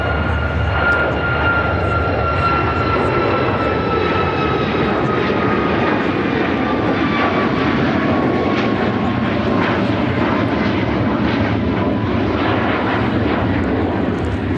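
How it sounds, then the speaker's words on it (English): A United Airlines Boeing 737 MAX 8 takes off from Chicago O'Hare bound for Tampa, its engines giving a loud, steady roar with a whining tone that slowly falls in pitch, with no voices over it. "2668 taking off to Tampa, Florida on the MAX 8"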